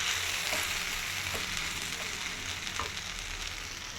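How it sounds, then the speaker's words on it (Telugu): Chicken masala and mutton masala spices fry lightly in a hot pan, giving a steady close hiss of sizzling oil throughout with a few faint scraping stirs and no voices. "ఇదైతే లైట్గా ఫ్రై చేసుకుంటా"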